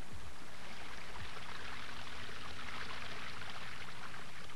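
Mountain stream in Poland's Tatra national park rushing steadily, a dense continuous wash of flowing water heard close and alone, with no voices.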